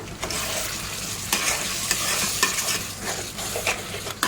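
Grated tomatoes for a prawn keema ball curry are stirred and fried in a pan, with repeated scraping strokes of the spoon over a close, steady sizzle.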